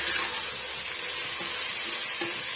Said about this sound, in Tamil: இப்ப இந்த தக்காளி பழம் ஓரளவுக்கு வதங்கி வரட்டும்